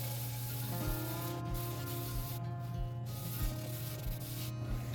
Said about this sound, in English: I have 220 on a sanding block, and we're gonna go sand this down to make it flush again